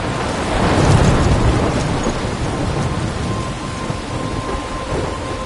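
A heavy thunderstorm in Life is Strange: steady loud rain pours while a low rumble of thunder swells early and slowly fades beneath the downpour.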